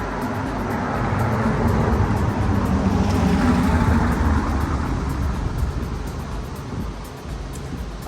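Traffic streaming past on a one-way street, a continuous broad road rumble with vehicles blending together close by, swelling slightly mid-way and easing toward the end, with no voices.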